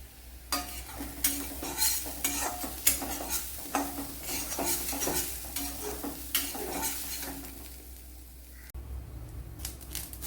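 Coconut roasting in a pan on a Kerala stove, with a spoon scraping and stirring in repeated strokes over a soft continuous sizzle and low hum; no talking.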